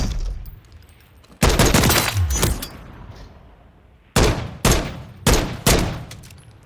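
Gunfire from a 458 SOCOM weapon in Call of Duty Modern Warfare III: a loud, heavy blast with a long echoing tail, then a pause, then four hard, evenly spaced shots in quick succession, with no talking.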